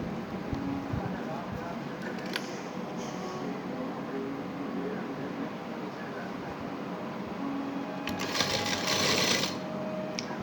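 A sewing machine stitching the button placket on a men's garment, a steady close mechanical whir running throughout with brief faster bursts, while a person talks over it.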